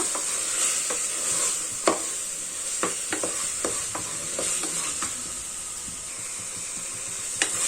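Ginger garlic paste frying in a pan for egg biryani, a steady moderate sizzle with scattered sharp spoon scrapes and taps as it is stirred, no voices.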